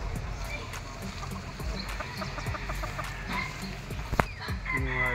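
Gamefowl chickens cluck steadily close by at a game farm while a rooster crows, with other birds calling and people talking faintly in the background.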